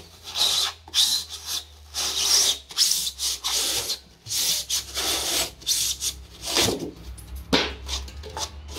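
Rhythmic back-and-forth rasping of a hand saw cutting through a thermal panel, strokes repeating steadily with brief pauses between bursts.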